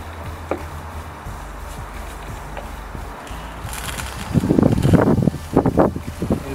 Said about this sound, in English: Quite a windy day today.